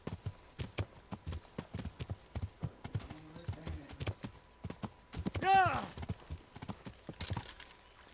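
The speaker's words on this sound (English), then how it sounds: "Yeah, it's my horse." Horse hooves clip-clop in a steady walking rhythm in the Kingdom Come Deliverance video game, with a brief whinny midway and talk over the top.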